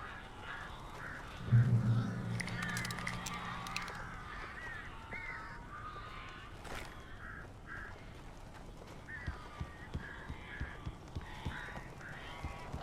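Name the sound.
crows cawing in the video game Alan Wake Remastered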